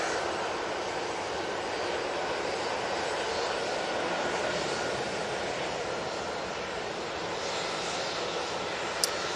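Air Tanker aircraft on a positioning flight at Manchester Airport, a continuous, fairly distant engine drone that holds steady at moderate loudness, ending with a brief sharp click.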